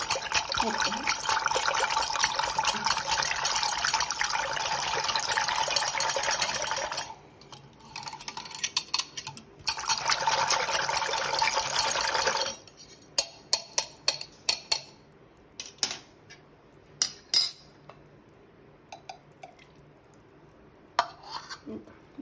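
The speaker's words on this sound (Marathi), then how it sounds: "त्यामुळे दही फेटून घेऊया" Yogurt (curd) whisked in a bowl for daddojanam curd rice, with milk already mixed in: two long bursts of busy, scraping strokes, then a run of scattered light taps and clinks against the bowl.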